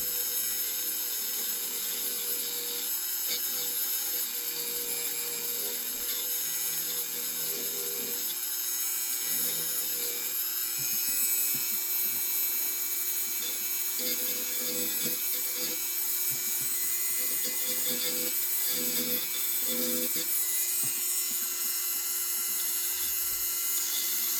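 A Dremel rotary tool cuts a small ledge into an epoxy cowcatcher on an Ives tinplate toy train restoration, making a close, continuous high whine that wavers with grinding and rubbing as the bit works the material.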